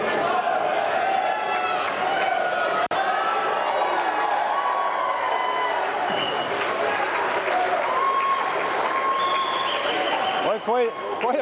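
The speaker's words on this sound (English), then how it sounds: "Quite a reaction out of the Ellsworth fans cheering a forfeit" Ellsworth fans at a high school wrestling meet applaud and cheer a forfeit, a dense sustained wash of clapping and crowd noise in a gym, steady and loud from start to end.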